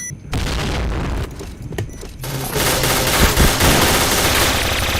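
Heavy automatic gunfire in the Point Blank online shooter, dense rapid bursts with booming shots that carry through the whole stretch, loud and continuous with a brief dip in the middle.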